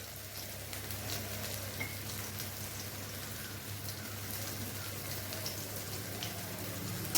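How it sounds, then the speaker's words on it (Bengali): Onions frying in a steel kadai with a thin copper-coated base, with a steady soft sizzle and faint stirring scrapes throughout. The sound is quiet and even, with no talking. "এবার দিয়ে দিলাম পেঁয়াজগুলো, একটু নাড়ানাড়ি করতে থাকি"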